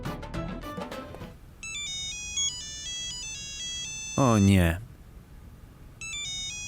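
A mobile phone ringtone plays a repeating electronic melody of bright tones in short bursts, interrupted by a brief loud rising whoosh. A person speaks briefly at the start.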